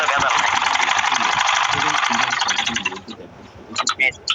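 Sewing machine running a continuous fast stitch on a panjabi sleeve for about three seconds, then stopping, followed by a few short mechanical clicks and taps.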